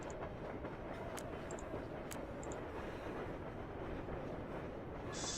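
A train running on rails in an animated railyard setting, a faint, steady rumble with occasional light clicks and a brief high squeal near the end, no talking over it.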